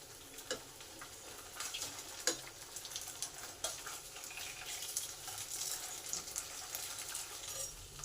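Soft pabda fish fry in a pan over low to medium heat, a fairly quiet steady sizzle with light taps and scrapes as the pieces are carefully turned.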